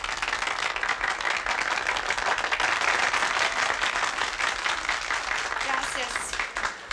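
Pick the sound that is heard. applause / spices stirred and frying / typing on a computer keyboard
applause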